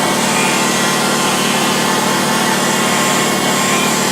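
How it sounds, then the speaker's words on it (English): An old surface grinder running steadily, a loud, even, broadband mechanical whir close by that holds constant without pause. "this surface grinder, I think, and it's still going strong"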